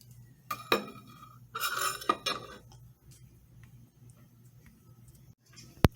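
A knife cutting pepperoni on a plate, giving a few sharp clinks and scrapes of metal against the plate in short bursts, separated by quiet gaps, with a single hard tap at the end.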